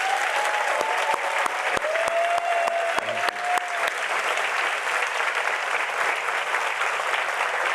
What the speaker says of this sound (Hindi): प्रभु के लिए अच्छी ताली बजा सकते हैं हम।